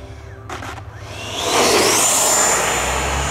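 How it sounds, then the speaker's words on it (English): An XFly T-7A Red Hawk 80mm RC jet lands at quarter throttle. A whooshing turbine-like roar swells from a low hum into a loud, steady rush with a rising whine, and no voices are heard. "About quarter throttle this time instead of half."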